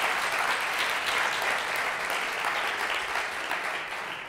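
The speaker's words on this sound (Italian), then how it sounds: "Stava partendo l'applauso, lo fate o non lo fate?" An audience at a business talk breaks into a steady burst of applause, dense and sustained for a few seconds before starting to thin out.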